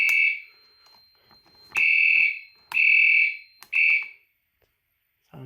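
A fire alarm system is sounding during a test: four loud, shrill electronic horn blasts, each under a second long, separated by short pauses. The last blast is followed by silence.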